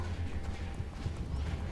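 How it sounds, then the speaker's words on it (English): Deer hooves trotting close behind in the video game Kingdom Eighties, a steady muffled clip-clop patter with low thuds running the whole moment, no talk over it. "The deer followed us."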